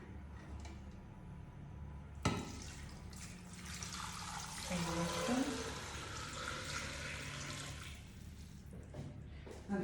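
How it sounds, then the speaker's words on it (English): About two liters of water poured into a seafood stock pot with saffron, a continuous close splashing rush that swells and then thins out, with faint talk in the background. "And now water. I'm going to put about 2 liters of water."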